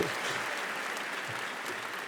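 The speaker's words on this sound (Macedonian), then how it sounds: "Дами и господа, уште еден аплауз" An audience at the Zlatna Bubamara 2026 music awards show applauds in sustained, even clapping that fills the whole moment, with no voices heard.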